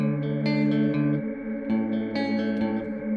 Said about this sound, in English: this one will freeze the signal, and it'll just kind of hang it there indefinitely